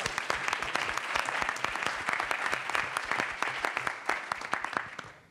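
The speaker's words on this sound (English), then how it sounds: "And also give a big round of applause to Dulcie, who was a great MC tonight for us." Audience applause at the MIT $100K pitch competition 2018 event, steady dense clapping from a crowd that fades toward the end, with no talk over it.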